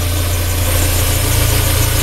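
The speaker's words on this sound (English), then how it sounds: "So let's shut this engine off." A car engine idles under the hood of a vehicle with an oil leak, a loud, steady low rumble with a fast even pulse and slight knocking vibration, close and alone.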